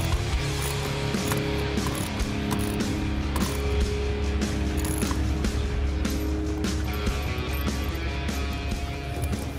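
Ratchet fitted with a 9/16 socket cranks down a tonneau cover clamp on a Ford F-150 bed rail, giving steady close mechanical clicking over a constant loud background hum throughout.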